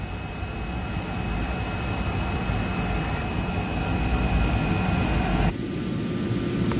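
Jet airliner engines roar steadily as the plane departs the gate in the early morning, a dense continuous rumble with a high whine, loud and unbroken before cutting to a duller tone near the end.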